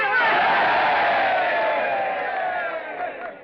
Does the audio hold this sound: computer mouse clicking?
no